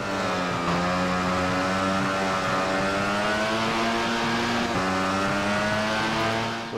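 A Honda MotoGP motorcycle engine in the video game MotoGP 15 screams at high revs, a loud, squealy, steady whine that rises and falls slightly as the gears shift, with no talking.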